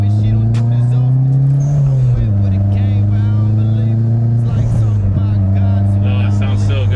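A Toyota Altezza's engine drones steadily while driving, its pitch dipping with a gear change partway through and then holding, loud and close, with people talking over it.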